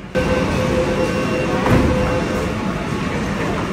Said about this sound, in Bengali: চলো, আমার গাড়ি ঢুকে গেছে সল্টলেক সেক্টর 5-এর দিকের গাড়ি।